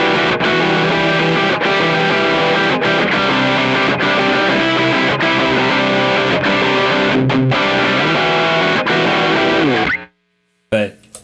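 A heavily distorted electric guitar plays chunky, driving chords continuously for about ten seconds, then stops abruptly, with a brief burst after the pause.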